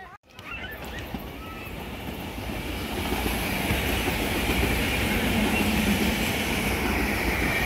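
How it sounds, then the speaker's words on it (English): SEPTA Regional Rail commuter train passing at rush hour, led by a Conrail Heritage Unit locomotive, its rumble and clattering wheels building steadily louder and holding close, with faint squeal over the rolling noise. "With a Conrail Heritage Unit!"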